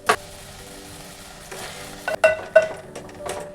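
Moringa leaves stir-fry in a pan with a soft steady sizzle, broken by a few sharp scraping stirs of the spatula near the end.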